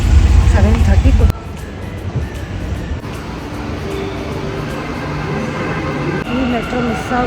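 A metro train at a station gives a loud low rumble at the start, then a steady rolling hum and rattle of carriages that continues throughout.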